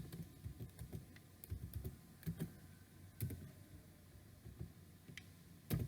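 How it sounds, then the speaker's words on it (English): Computer keyboard typing in a classroom computer lesson, with irregular clusters of light, close key clicks and brief pauses between bursts. "When you type English"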